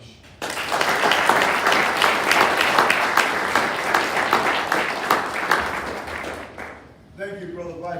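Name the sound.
applause, hand clapping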